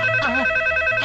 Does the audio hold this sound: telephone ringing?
yes